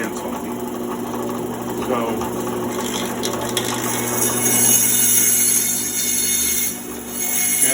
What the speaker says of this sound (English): I'm cutting out the other side. And you can see here, cork cuts super easy.